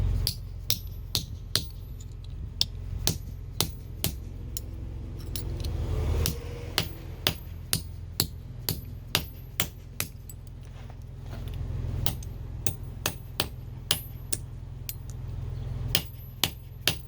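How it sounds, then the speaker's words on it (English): A spoon is hammered flat to make a trade arrow point. Sharp metallic hammer blows ring out close and loud in an irregular, steady series over a low background rumble. "the first step is to flatten your spoon."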